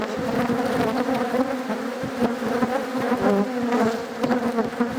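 Honeybees buzz densely and continuously at close range around a beehive, a full droning hum with individual bees flitting past the microphone.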